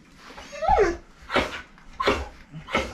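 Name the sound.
Maremma dog whimpering and vocalizing during brushing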